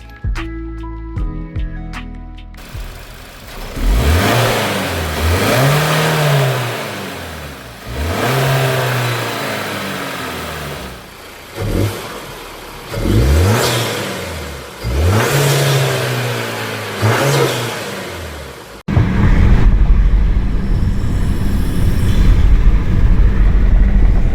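A 2021+ Kia Sorento 2.5T turbo engine with a K&N intake revs up repeatedly in four rising-and-falling pulls with whooshing turbo noise between them, loud and close, followed by a steady engine drone.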